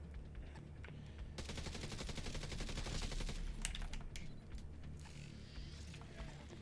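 Shotgun fire in The Division 2 comes as a fast, regular burst of shots lasting about two seconds, with scattered single shots before and after, set fairly low in the mix without talking.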